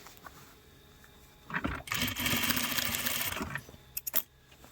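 A sewing machine stitches a hem seam around a folded pleat of a custom tailored bedskirt: one run of fast whirring lasting about two seconds, framed by quieter handling clicks before and after.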